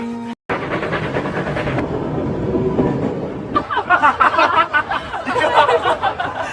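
A train passes in the film Survival Family, a loud steady rumble giving way to rhythmic clattering of wheels over the rails as it goes by close at hand.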